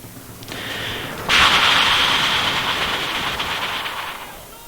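Massed rifle volley from Tosa riflemen in a Total War-style battle game, a sharp broadband crack followed by a sustained rattling roar of crackling fire that fades slowly over several seconds, loud and without speech.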